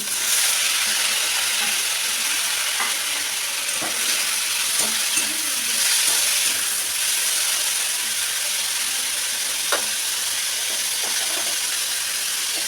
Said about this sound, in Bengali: সর্ষে তেল দিয়ে শুকনো লঙ্কা দিয়ে রসুন পেঁয়াজ কাঁচা লঙ্কা দিয়ে দিলাম এগুলো হালকা ভেজে নেব